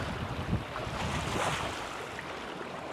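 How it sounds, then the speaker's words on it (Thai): Wind picking up in the Cambodian countryside near rice fields, a steady loud rushing gust buffeting the microphone with no voices. "ลมมันขึ้นแล้ว"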